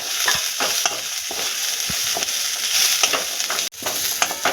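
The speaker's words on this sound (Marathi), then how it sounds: "आता आपण त्यामध्ये कोबी ॲड करू कोबी पण आपण दोन मिनटं परतून घ्यायचं आहे" Peas and cabbage sauté in a pan, a loud steady sizzle running throughout with repeated spatula scrapes and knocks at an uneven rhythm, close and alone.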